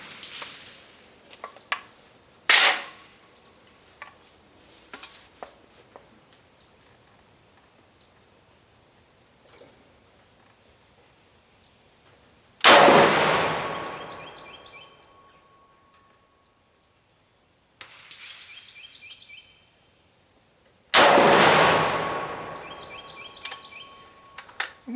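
A Century Arms CA-3 rifle fires outdoors while the sights are being checked, with two loud, sharp gunshots that echo and decay slowly, plus a quieter distant report and several faint pops spread across the stretch.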